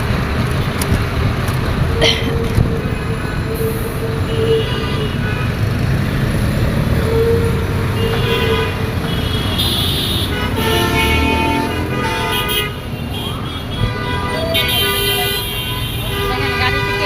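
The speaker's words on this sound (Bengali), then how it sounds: "দেখেন গাড়িতে কেমন জ্যাম লাগছে।" Heavy road traffic at a city jam, with cars and trucks idling and rumbling close by while several horns honk repeatedly in short and longer blasts over a constant roadway drone.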